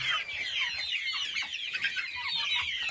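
Chickens clucking steadily with chicks peeping high and busy throughout, a dense, close flock chorus with no talking.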